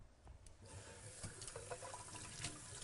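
Water running from a tap during handwashing before an aseptic procedure, a steady broadband splashing rush that carries on through the whole stretch with a few brief knocks and splashes.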